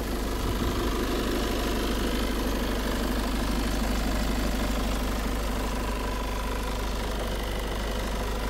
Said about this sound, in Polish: Jak słyszycie, silnik pracuje równiuteńko.